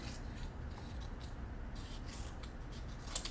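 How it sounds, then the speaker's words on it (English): Scissors snipping through folded paper to cut out a paper snowflake, faint, quick cuts with a small sharp snip near the end, no voices. "We're gonna cut those right open, just like that."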